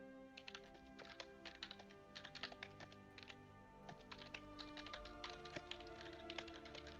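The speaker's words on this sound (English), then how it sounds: "He's busy typing right now." Quiet, rapid keystrokes on a computer keyboard tap in irregular bursts, close and faint with a low background hum and no talking.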